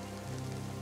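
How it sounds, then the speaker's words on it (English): Rain falls steadily on surfaces in the survival video game DayZ, a soft, even patter that stays faint and continuous for under a second. "with the rain coming down, guys"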